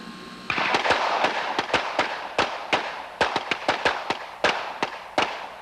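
Pistol shots ring out from a Wilson Combat handgun at the NRA Bianchi Cup practical event, a steady string of sharp, loud cracks repeating roughly every third of a second to half second over an outdoor range.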